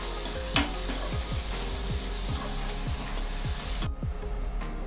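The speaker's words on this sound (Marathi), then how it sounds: "आता कांदा छान सॉफ्ट होईपर्यंत आपण परतून घेऊया।" Onions sauté in a pan with curry leaves, making a loud, continuous sizzle, with rhythmic scraping strokes of a stirring utensil throughout.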